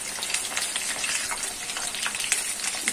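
Chicken lollipop pieces fry in hot oil, a dense, loud, continuous sizzle and crackle up close, with no voices.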